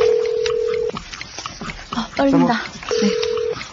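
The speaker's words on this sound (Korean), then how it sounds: "자, 초시계와 함께 전화 걸도록 하겠습니다." A telephone call is dialed live on a Korean radio show. A steady tone is followed by quick keypad beeps and then another tone, all close and clear, while a voice speaks briefly between them.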